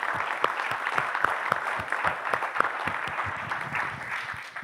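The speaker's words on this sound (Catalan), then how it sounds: "ara enllaçarem un aplaudiment" Steady applause from an audience at a talk or panel discussion, moderately distant with individual claps standing out in a continuous patter.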